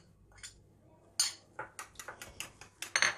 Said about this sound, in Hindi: मक्खन में चॉप लहसुन, नमक और ओरिगानो लीव को मिक्स करके